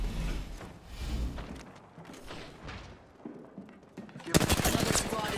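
Rapid gunfire in the Apex Legends battle royale game, with bursts of shots in a close firefight that swell to a loud, dense volley near the end, layered with game effects.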